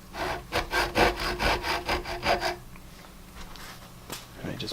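A hand saw cutting dovetails in a wooden workpiece clamped in a bench vise: about eight quick, even back-and-forth rasping strokes, close and crisp, then stopping, with a few faint knocks afterward.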